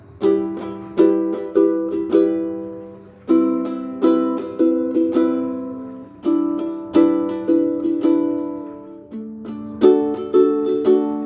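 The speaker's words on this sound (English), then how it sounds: "open, easy 4-chord repetitive sequences for ukulele" A ukulele strums a repeating four-chord sequence in an even rhythm, each chord ringing out and fading between strokes, close and clear with no voices.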